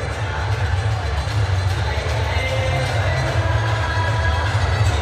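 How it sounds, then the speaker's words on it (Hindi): A stadium crowd at a Pakistan Super League cricket match between Quetta Gladiators and Islamabad United claps and cheers after a boundary four, a steady dense roar of many voices that sustains throughout. "यार इधर भाई जोर जोर से तालियां मार रहे कि फाइनली एक चौका तो लग गया यार।"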